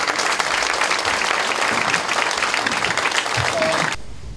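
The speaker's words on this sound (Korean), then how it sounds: "다시 한번 추미애 대표님께 큰 박수 부탁드리겠습니다." Dense applause from the audience at a joint policy forum of Democratic Party of Korea candidates for Gwangju, steady and full, cutting off sharply near the end.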